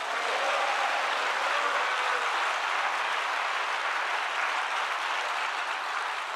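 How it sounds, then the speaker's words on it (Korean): Sustained applause from a church congregation at a Saturday joint prayer rally, broad and steady clapping filling the hall throughout without a break. "이 시간 우리는 감사와 영광의 박수를"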